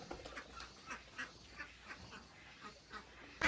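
Ducks at a duck-raising farm run by prison inmates quack in short, repeated calls at moderate distance, several birds overlapping in an irregular rhythm over soft outdoor background noise.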